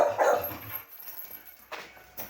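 A dog named Sonic on his first training lesson gives a loud bark up close, then a couple of shorter yips with quiet gaps between.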